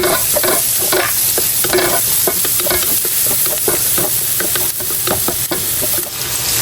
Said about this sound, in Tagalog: Magigisa na po tayo ng bawang at sibuyas.